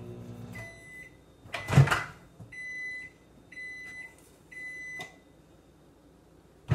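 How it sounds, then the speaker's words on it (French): Microwave oven heating a plastic bottle: a series of short electronic beeps spaced apart, with clunks from the door opening and closing, near and fairly quiet. "Si je le mets au micro-ondes pendant 10 secondes, on fait un test."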